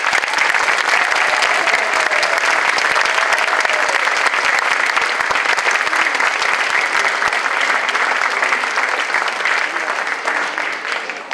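Sustained applause from a school holiday band concert audience fills the room, dense and loud throughout, with scattered voices mixed in and a slight fade at the end.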